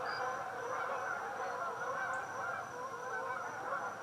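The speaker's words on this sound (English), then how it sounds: "Flock of geese just flew over." A flock of geese passes over a home garden, honking again and again in a dense, overlapping chorus that stays fairly loud and constant throughout, with no talking.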